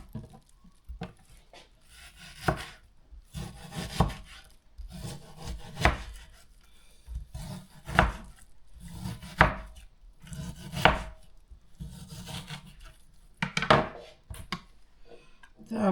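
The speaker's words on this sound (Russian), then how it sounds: "Сейчас порежу мясо" A knife chops raw meat on a board in repeated close, dry thuds that come in irregular bursts with short pauses between, no voices over it.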